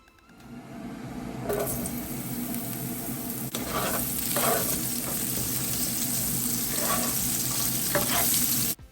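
Sliced whole onion frying in oil left from cooking salmon for Jamaican brown stew, a steady loud sizzle building after a quiet start, with stirring scrapes throughout and no talk.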